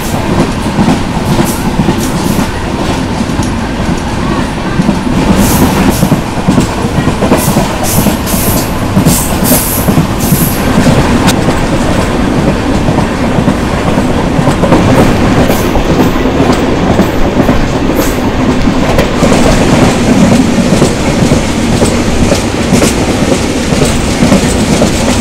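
A Digha to Puri train runs along the rails with a loud, continuous rumble and rhythmic clickety-clack from the wheels, heard from inside the carriage without talk.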